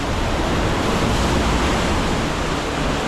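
Constant loud rush of breaking waves and churning surf, close up, with no other sounds.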